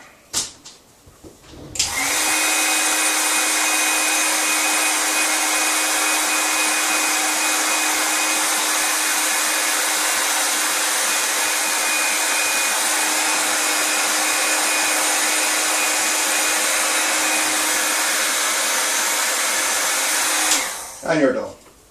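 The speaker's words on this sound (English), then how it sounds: "get your heat gun moving" A heat gun blows a loud, steady whoosh for about twenty seconds while heat shrink tubing is shrunk over a crimped cable lug during a BMW E39 electric conversion, starting and stopping abruptly with no talking.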